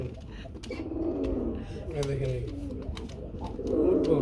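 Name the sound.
pigeons cooing, male Rasgolla pigeon calling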